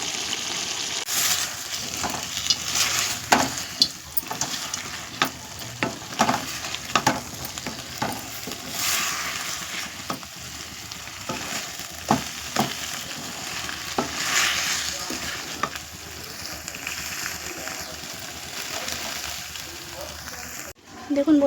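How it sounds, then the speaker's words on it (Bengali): Ingredients sauté gently in a little water in a pan for a fish, raw banana and potato curry, producing a close bubbling sizzle broken by repeated scraping stirs. "আমি এই জলেতেই হালকা হালকাভাবে একটু কষিয়ে নেব"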